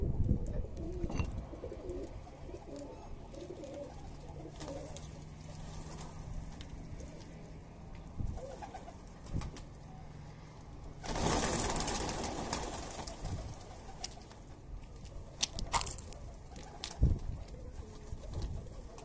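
Soft pigeon coos rise here and there over a low outdoor background, with a few rustles and brief louder bursts of noise.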